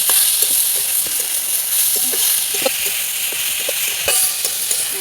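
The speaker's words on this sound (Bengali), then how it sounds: "মশলাটা এইভাবে ভালো করে একটু ভেজে দেবো।" Ground turmeric and cumin are fried with chopped carrot, cabbage, potato and coriander leaves in a pan. A continuous bright sizzle is broken by scattered scraping clicks from stirring, with no talking.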